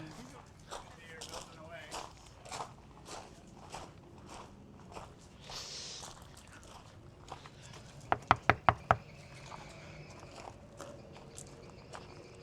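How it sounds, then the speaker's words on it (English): Knocking on a sailboat's hull, a quick burst of four or five sharp raps after steady footsteps on deck, with some talk nearby. "Let's go knock on his hull."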